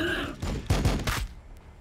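Gunfire from the video game Warhammer 40,000: Battlesector comes as a short, close, heavy burst of a few rapid shots that rumble and fade within two seconds.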